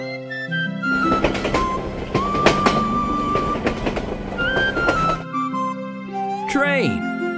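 A train rumbles and clatters steadily for about four seconds, with repeated sharp rail knocks and a squealing tone. A short musical flourish follows.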